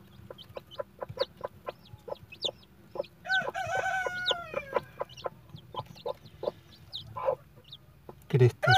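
Newly hatched chicks peep in quick, high, repeated chirps close by, while adult chickens cluck and a rooster's crow-like call rises in the middle. A sharper burst of calls comes near the end.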